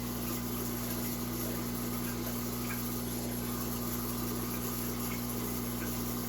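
Fresh, slightly cooler water pours steadily into a Corydoras catfish aquarium, a continuous gushing, pump-like flow with a low hum, even and close throughout.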